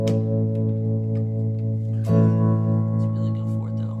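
Sustained electric guitar tones ring through an effects pedal, a single note swelling and fading with a fresh pluck midway.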